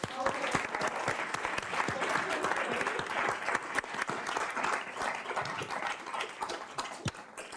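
Audience applause at a startup pitch showcase evening, dense sustained clapping from a crowd lasting several seconds with scattered sharp claps and a few whoops.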